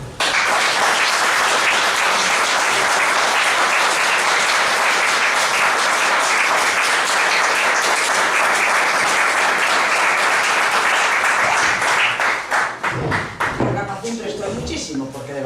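Sustained applause from an audience after a talk on afuega'l pitu cheese and the Grado market, dense and steady throughout, thinning out near the end.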